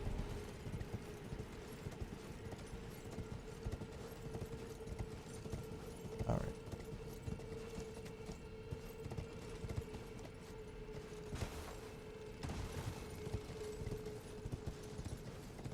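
Rapid, steady hoofbeats of a horse galloping through a cave in the video game Elden Ring, a continuous rhythmic clatter at moderate loudness with a few sharper thumps.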